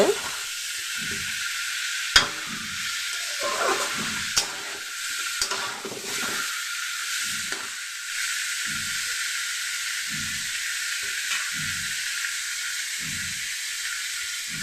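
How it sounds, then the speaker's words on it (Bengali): Raw mango sweet chutney being stirred in a hot pan, giving a steady loud sizzling hiss throughout, broken by repeated low scraping strokes of the spatula at an uneven rhythm and a few sharp clicks, close up and with no talking. "একটু নেড়ে চেড়ে দেব"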